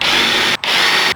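A power drill drives screws into wooden boards, whining loudly and steadily in two close bursts separated by a brief pause.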